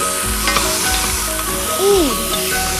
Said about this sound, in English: Give that a really good mix up.